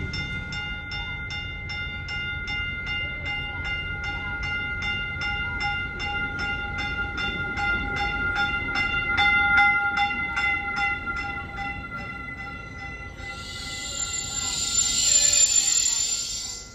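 A train rolls past steadily with rhythmic clacking and a bright metallic ringing, ending in a loud hiss of air brakes near the end.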